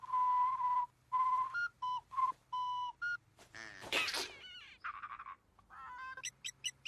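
Someone whistles a short tune, a series of clear, bright notes rising and falling, some held and some clipped, near and alone.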